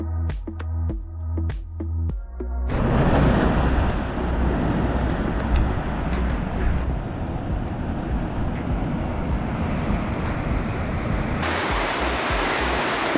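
Surf rolls onto the beach at Port Campbell on the Great Ocean Road on a rainy day, a dense, continuous roar of breaking waves with wind buffeting the microphone, following a few seconds of tonal sound at the start.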